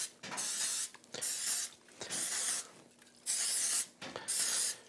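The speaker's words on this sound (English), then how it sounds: "I'm gonna give it a good spray with some cooking spray so they don't stick." Cooking spray from an aerosol can hisses into a muffin tin in several bursts of about half a second to a second each, separated by short pauses, close and fairly quiet.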